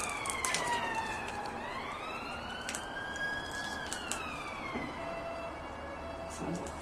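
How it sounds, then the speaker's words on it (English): A wailing ambulance or fire engine siren rises and falls in long sweeps, fairly distant, over street noise with a few faint voices, near the former Cane Hill mental hospital. "No, that's an ambulance or a fire engine."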